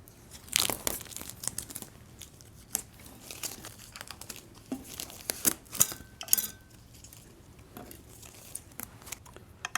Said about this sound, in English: So let's get this one unwrapped.